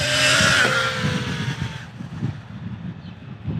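An MJX 14303 Citroën RC rally car's electric motor whines loudly as it accelerates, then eases off into a lower, rougher running noise that carries on for the rest of the stretch.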